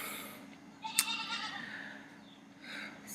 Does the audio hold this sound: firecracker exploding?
no